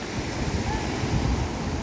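Ocean surf rolls steadily onto the shore at Pantai Mon Iken beach in Lhoknga, Aceh Besar, a continuous broadband wash with wind buffeting the microphone and no distinct break in the roar.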